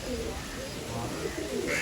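Pigeons coo softly in low, murmuring calls over a steady background hiss, with a bit of indistinct talk nearby.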